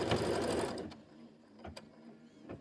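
A sewing machine stitches a fabric seam with a 1/4 inch allowance, whirring steadily for under a second before stopping, then a few faint clicks and handling sounds in a quiet room.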